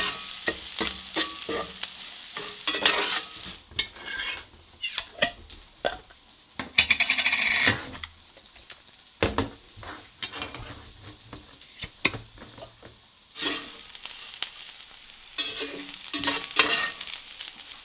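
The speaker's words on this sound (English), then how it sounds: "we have lard down first, and we're frying white rice and onion" White rice and onion fry in lard in a pan, sizzling softly under repeated scraping and stirring strokes, with a louder stretch of crackling in the middle and again near the end.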